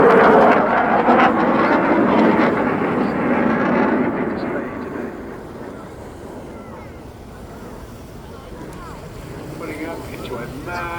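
Eurofighter Typhoon fast jet performing a looping manoeuvre at an airshow on the English Riviera, a loud broad jet roar that swells then fades into distant rumble, with wind buffeting the microphone.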